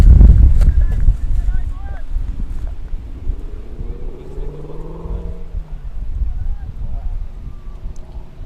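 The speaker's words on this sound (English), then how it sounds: "if you're hearing some wind in the background, ladies and gentlemen, that's how windy it is" Gusty wind buffets the microphone with low rumbling roars during a cricket match, loudest at the start, while a voice talks faintly underneath.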